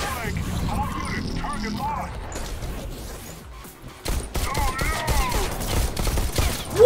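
Shotgun blasts going off in the VR shooter Bullet Train, a run of loud, close, overlapping booms mixed with excited shouting from a player.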